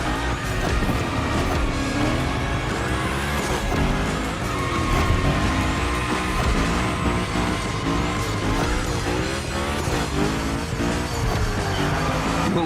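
A Hoonicorn slides through a gymkhana run in The Crew Motorfest, its engine roaring steadily and loud with intermittent tire squeal throughout, over dense game background sound.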